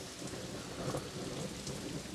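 Heavy rain in a dubbed Hindi action film scene, a dense steady downpour with a low rumble like distant thunder, continuous and without voices.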